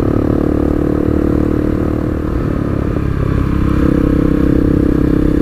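A Honda CRF 250L with a loud FMF exhaust drones steadily at speed, the engine note holding on and swelling slightly toward the end, close and loud with a faint clattery edge.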